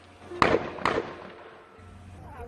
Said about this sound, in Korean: 폭발음과 함께 시뻘건 화염이 치솟아 오릅니다